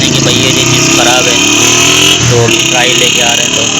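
A Honda motorcycle engine revs on a test ride outside a bike shop, a loud mid-pitched drone with rising and falling revs, while someone talks over it throughout.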